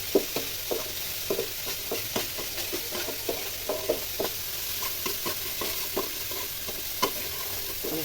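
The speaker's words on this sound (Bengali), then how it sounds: "মশলা কষাই করছিলাম" Spices sauté in a pan for a home-cooked meal: a constant soft sizzle with a steady rhythm of light stirring taps and scrapes, close and unbroken by talk.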